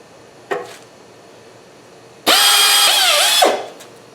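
A power drill bores a final bolt hole through a metal plate on a NorTrac 25 MTLD tractor with upgrades, first in a brief blip, then in a loud sustained whine of about a second whose pitch dips as it bites, close up and alone.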